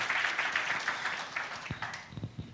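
Church congregation cheering and applauding in praise during a sermon, a broad steady wash of clapping and cheers that gradually thins out toward the end.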